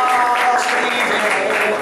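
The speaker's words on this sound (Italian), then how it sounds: "Quindi facciamogli un applauso" At a live concert, an audience breaks into sustained, loud applause with dense clapping. Voices can be heard mixed in beneath it.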